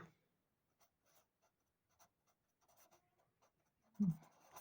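Soft, sparse scratching of writing on a board or paper during a math lesson on ratios, with short strokes spread across a quiet room and a louder stroke near the end.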